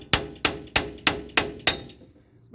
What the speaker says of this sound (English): I'm just going to knock them loose because I don't think they're in there that well.